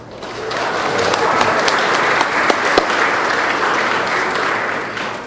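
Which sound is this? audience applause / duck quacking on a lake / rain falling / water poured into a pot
audience applause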